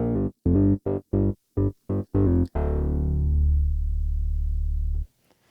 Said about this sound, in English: we're going to begin by auto-sampling this ASM Hydrosynth that I have sitting over here, and I've got this cool bass patch dialed up.